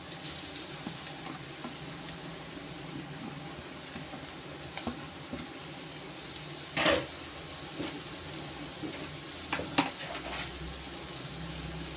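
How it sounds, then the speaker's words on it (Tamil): Grated carrot tipped into a pan of sautéing onions and green chillies for kara paniyaram, giving a steady low sizzle with a brief louder hiss and a few soft stirring clatters, no voices. "இப்போ வந்து நம்ம திருகி வச்சுருக்கிற கேரட்டை போடுவோம்"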